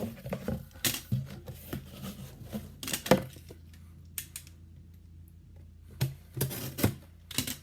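A box cutter slices through a cardboard box in short, sharp, separate cuts and scrapes, close by and fairly quiet, with pauses between strokes.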